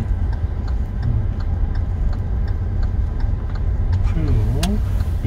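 Steady ticking of a car turn signal inside a moving car during a driving lesson, regular soft clicks over constant engine and road rumble, with talk in the cabin.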